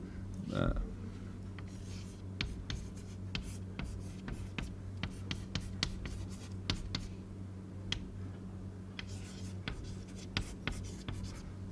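Pen or chalk writing during an electronics lecture, a quiet run of scratchy strokes and taps in irregular bursts, close and steady, with occasional faint movement around it and no talk over it.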